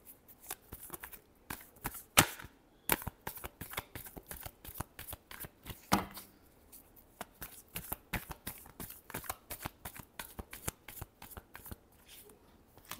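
Tarot cards shuffled by hand in a quiet room, a long run of crisp riffling flicks and soft slaps in quick irregular bursts, close and alone.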